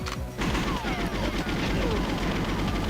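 Gunfire from the N64 game GoldenEye 007 in the Water Caverns level, dense overlapping shots and mechanical clatter sounding loud and continuous across the moment, with game music underneath.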